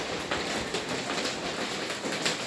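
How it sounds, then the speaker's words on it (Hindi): Steady rain falls continuously, a dense even hiss of drops with no pauses and no voices. "अब भी बारिश हो रही है। आवाज़ आप लोगों को आवाज़ भी आ रही होगी"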